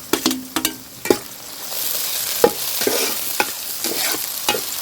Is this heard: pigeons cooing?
no